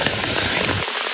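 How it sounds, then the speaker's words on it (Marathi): Heavy, sudden rain pours down steadily on nearby surfaces outdoors, a dense, loud, continuous hiss with scattered drop impacts throughout. "अचानक आणि भयानक असा पाऊस आला"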